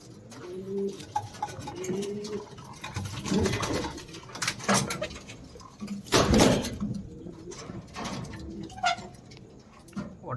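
Racing pigeons coo close by in repeated soft, throaty calls, with wing flutters and scuffles mixed in, sounding steadily across the stretch without speech.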